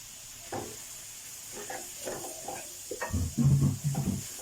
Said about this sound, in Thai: พอหอมแล้วนะครับ ก็ใส่อกไก่ลงไปผัดเลยหั่นพอคำเนาะ